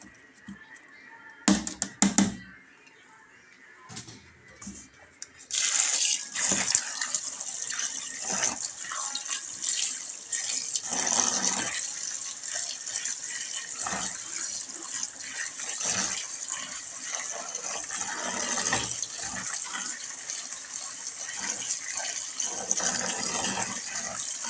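Water runs from a tap while something is washed in a large basket, a steady close gush with splashing and shifting as items are rinsed, preceded by a few sharp knocks and handling sounds.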